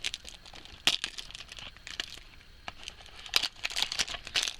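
Tomica toy car box packaging being peeled and torn open, giving bursts of close crinkling and tearing with sharp crackles around the one-second mark and again near the end, no talking.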